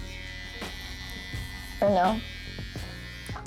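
An electric shaver buzzes steadily at close range while it removes the skin line during a haircut, and a short spoken question briefly cuts across the hum.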